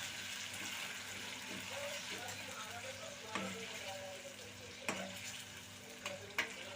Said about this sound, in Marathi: आधी आपल्याला आलं लसूण पेस्ट टाकून ती फ्राय करून घ्यायची